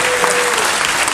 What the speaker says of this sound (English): a round of applause for them anyway